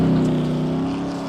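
Number 50 dirt late model race car on track for qualifying at I55 Speedway, a loud, steady engine drone that eases off slightly over a brief stretch.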